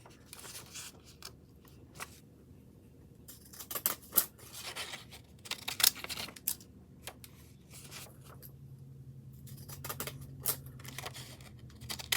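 Pink scissors snip repeatedly up close, sharp crisp cuts in irregular bursts with quiet gaps, some soft rustling of paper between them.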